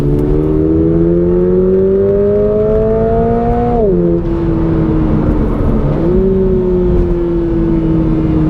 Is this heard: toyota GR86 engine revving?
yes